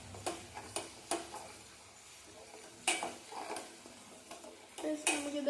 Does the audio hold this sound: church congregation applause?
no